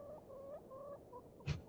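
A chicken in the point-and-click adventure game The Excavation of Hob's Barrow clucks softly in short tonal calls, ending with a sharper, louder squawk, faint and alone.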